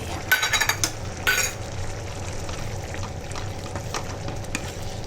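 Chickpea curry boiling in a pan: steady, soft bubbling and simmering throughout, with a few light utensil clinks near the start.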